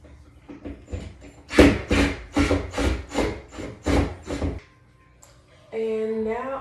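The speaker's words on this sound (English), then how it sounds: "I'm gonna unscrew this part too." A part is unscrewed from furniture during a home office makeover, making about eight rhythmic, close scraping turns, followed by a person speaking.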